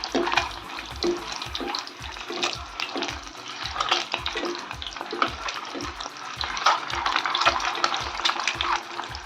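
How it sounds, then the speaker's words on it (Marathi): Boiled eggs frying in hot oil for a Savji egg curry, a steady close sizzle and crackle that carries on throughout with soft stirring, no talk. "आपल्याला तळून घ्यायची ही अंडी थोडा गोल्डन असा कलर घ्यायचा आहे"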